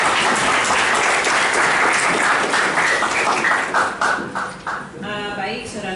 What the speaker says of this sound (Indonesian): aplaus dulu buat narasumber